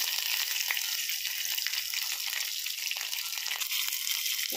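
Curry leaves, chopped onion and two green chillies sizzling in hot tempering oil for an amaranth and meal maker curry, a steady bright crackling hiss with scattered pops, close and alone.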